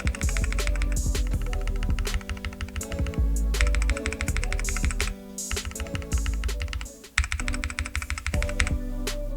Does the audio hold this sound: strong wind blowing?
no